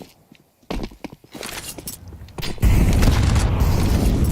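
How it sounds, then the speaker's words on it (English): A grenade explodes in Counter-Strike during a professional esports match, preceded by scattered footsteps and thuds, then a loud deep boom with sustained rumbling blast noise filling the second half. "Another great early grenade for G2."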